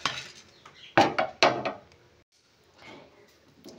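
Whole spices for chai masala are stirred in a dry kadai on a gas stove, a few close scraping and knocking clatters followed by a quieter rustle.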